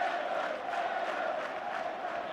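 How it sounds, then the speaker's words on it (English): A rugby league crowd at St Helens versus Huddersfield Giants chanting a club chairman's name, a steady distant roar of many voices carrying on evenly without a break. "the crowd, you know, shouting out his name"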